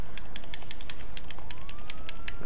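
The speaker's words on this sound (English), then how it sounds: "Turn the fucking siren off." A police car siren wails steadily close by, its rising and falling tone running under rapid rhythmic clicking for the whole stretch.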